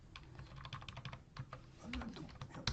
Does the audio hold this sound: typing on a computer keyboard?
yes